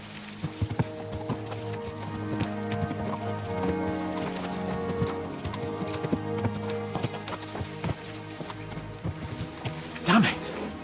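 Horses gallop in Kingdom Come: Deliverance 2, a loud rhythmic hoofbeat running throughout beneath a voice and game music, with a snort or whinny near the end.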